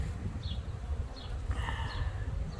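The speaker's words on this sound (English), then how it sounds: "There's so many bees crawling around in here." A captured swarm of honeybees crawls around inside a hive box, making a steady, low, continuous buzzing hum close by, with a few higher-pitched passing bee whines and no talking.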